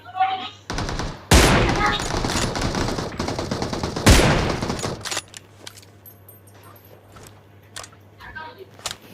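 In PUBG Mobile, a dense burst of loud gunfire rattles for several seconds, followed by scattered quieter shots and clicks, with voices talking during the exchange.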